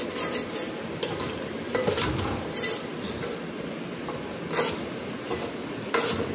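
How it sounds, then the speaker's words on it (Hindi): Minced meat fries in about three large spoons of ghee, with a continuous sizzle under repeated scraping and clanking of a spoon stirring against the pan, heard close-up. "अब इसके अंदर हमने तकरीबन 3 चम्मच बड़े घी के डालकर इसको भूनना स्टार्ट करना है"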